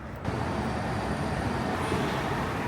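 Steady low rumble and rolling hum of a tram ride at Disney California Adventure, continuous and fairly loud throughout, with no talk.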